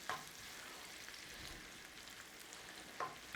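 Chopped onions sweat in hot bacon grease in a pan, a steady close sizzle with a couple of brief clinks of stirring at the start and end.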